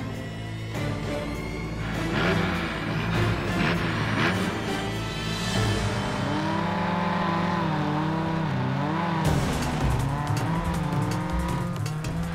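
All-terrain vehicle launching hard, engine revving up through rising pitch sweeps with tyres squealing and skidding, then driving on loudly with a burst of gravel or wind noise near the end.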